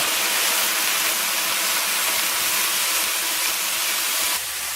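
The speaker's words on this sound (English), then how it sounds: "You're going to add a little bit of your wine and it's finished steaming." White wine hits a hot pan while deglazing for risotto, giving a loud, continuous steaming hiss and sizzle that holds steady for several seconds before easing slightly near the end.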